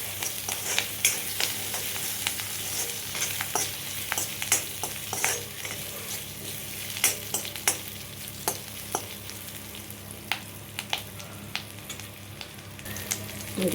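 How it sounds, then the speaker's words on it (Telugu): Garlic, green chillies and curry leaves fry in a pan of hot oil for chicken 65, giving a steady close sizzle broken by sharp crackling pops and the occasional scrape of stirring, with no one talking. "కరివేపాకు మంచిగా టప్ టప్ సౌండ్ వస్తే అప్పుడు వేస్తే సూపర్గా ఉంటుంది."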